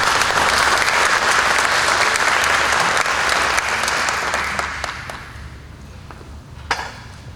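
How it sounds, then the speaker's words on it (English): Audience applause at a ribbon-cutting ceremony for a display case: a loud, dense stretch of steady clapping that thins and fades over the last few seconds, with a few isolated claps near the end. "So certainly a round of applause for all of you that are supporters and donors"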